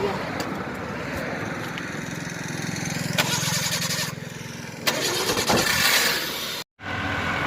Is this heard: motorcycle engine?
yes